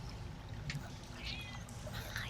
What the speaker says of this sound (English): Meow echoes off the walls.